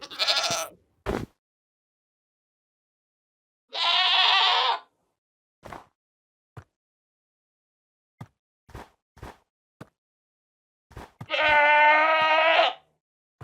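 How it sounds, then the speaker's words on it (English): Screaming goat idle calls from Minecraft: two long, loud, wavering bleats, one early and one late, each alone, with scattered short clicks and taps between them and a brief bleat at the very start. "There's also sounds for screaming goats,"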